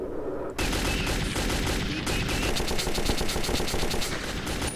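Sustained rapid automatic fire from a gun in Metro 2033, a dense, loud, unbroken rattle of shots running from just after the start to the end, with no voices.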